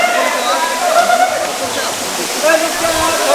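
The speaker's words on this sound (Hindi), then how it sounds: "तो ये ऊपर से आप देख रहे हो झरना वहाँ से आ रहा है" A waterfall pours down from surrounding hills as a steady, loud broadband rush, with someone speaking over it throughout.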